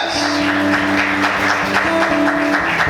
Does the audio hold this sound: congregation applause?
yes